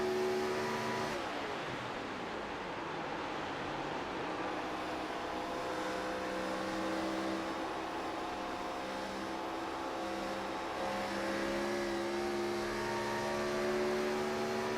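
A race car engine at Darlington Raceway drones at a steady, lower pitch as the driver clutches in for a corner, fairly loud and continuous with no revving surges.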